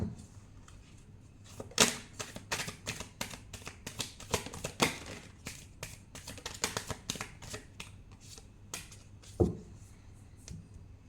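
A deck of playing cards is shuffled in repeated bursts of crisp riffling and sharp snaps, some louder than others, close by and without any voices.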